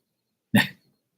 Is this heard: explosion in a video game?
no